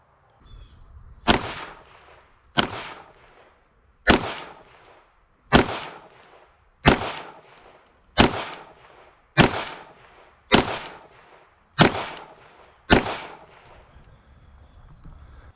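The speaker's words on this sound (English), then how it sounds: "we got 10 rounds of Winchester white box loaded up. I'm gonna shoot another group." A rifle fires ten Winchester white box rounds one by one in an evenly spaced string of sharp, loud cracks, each followed by a short decaying echo.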